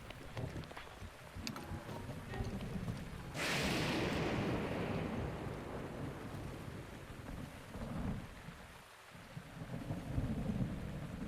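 Rain and thunderstorm in The Legend of Zelda: Breath of the Wild: steady rain hiss with low rumbling thunder, a sudden loud burst of downpour or thunder swelling midway, then continuing rain and distant rolls.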